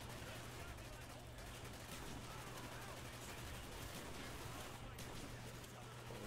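Gunfire in the video game Call of Duty: Black Ops, a dense, continuous wash of shots and battle noise lasting throughout at steady loudness, with a low hum underneath.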